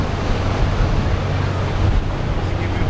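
Cold winter wind blows steadily near Tower Bridge in London, a loud, continuous rushing roar buffeting the microphone with no letup.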